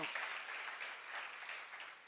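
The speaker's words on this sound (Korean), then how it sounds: "박수로 하세요." A church congregation gives a steady round of applause, a soft, even patter of many hands clapping at a distance, fairly quiet and unbroken by speech.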